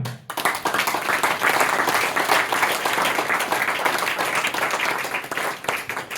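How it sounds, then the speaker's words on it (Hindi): A full audience breaks into loud, steady applause at a spoken lecture, dense clapping from many hands holding for several seconds before beginning to fade. "हाँ, तालियां"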